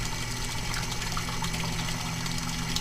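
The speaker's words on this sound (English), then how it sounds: "the water pump driving this pipe flow" A water pump driving flow through a pipe gives a constant, dense rushing and humming drone with a low steady hum underneath, unbroken and even throughout.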